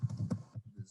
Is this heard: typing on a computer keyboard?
yes